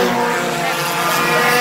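Four-cylinder race cars racing at Ransomville Speedway, a loud dense engine roar from several cars at once, steady and close, with no pauses.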